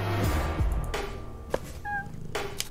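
A cartoon cat in the point-and-click game Deponia, one short pitched meow standing out over a quiet game background, with faint thumps and tones around it.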